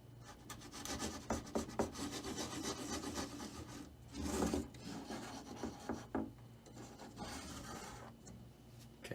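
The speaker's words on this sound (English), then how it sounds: "This is a really awkward angle to scrape the sides, but we're gonna scrape the sides." A spatula scrapes the sides of a mixing bowl while key lime pie filling is poured into a crust, giving repeated soft rasping and rubbing strokes at close range with no talking.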